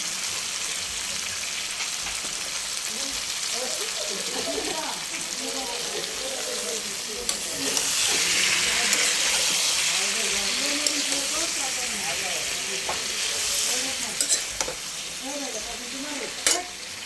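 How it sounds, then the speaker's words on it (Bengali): Potatoes and eggplant fry with spices in a pan: a steady, close sizzle with scattered spatula scrapes that swells louder partway through, then settles back with a few sharper clinks. "বেগুন আর আলু দিয়ে দিচ্ছি সুন্দর করে কষানো।"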